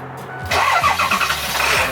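A school bus engine cranks and catches after a brief pause, then settles into a loud, steady, close-up idle with no talking.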